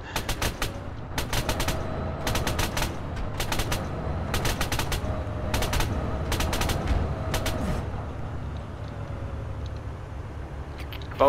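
Machine gun fire in the Arma 3 video game comes as repeated rapid bursts of automatic shots in a steady rhythm over a rumbling vehicle engine, with voices talking throughout.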